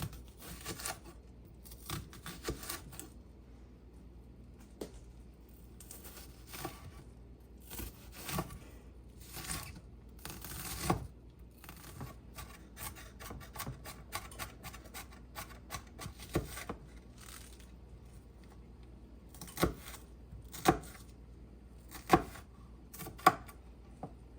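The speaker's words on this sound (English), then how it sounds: "We're going to take our shallot. I'm just going to score it." A knife scores and cuts a shallot on a board in light, irregular taps and scratchy slices, some sharper clicks standing out near the end, with no speech.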